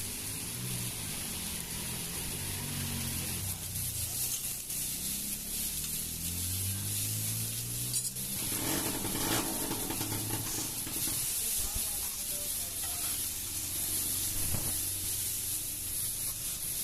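Raw mango pieces frying over moderate heat in a pan, producing a steady, even sizzling hiss throughout, with a muffled voice faintly audible beneath it at times.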